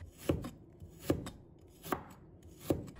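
A knife slices peeled ginger on a board in four crisp, evenly spaced chops, close and clear with no talking.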